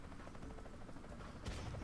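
A weapon blast in the artillery game Worms Battlegrounds, one sudden burst with a crackle near the end of a busy stretch of dense game noise, fairly small rather than a big boom.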